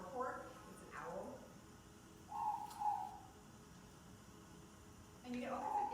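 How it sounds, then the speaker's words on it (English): A morepork owl calls in New Zealand forest, a few soft hooting notes at a distance, alternating with someone talking nearby. "It's a moorpork. It's an owl."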